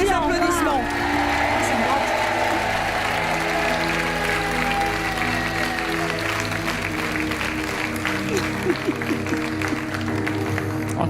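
Studio audience applause on the French game show Money Drop as contestants leave, a steady dense clapping wash lasting throughout, with talk and background music layered over it.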